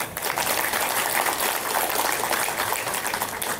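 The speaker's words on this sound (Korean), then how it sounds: "박수로 환영해 주시기 바랍니다." Audience applause welcoming a speaker at a housing management academic conference, a dense, steady wash of clapping from a crowd filling the whole moment.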